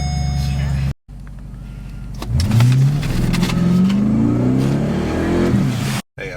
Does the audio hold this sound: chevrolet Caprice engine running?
yes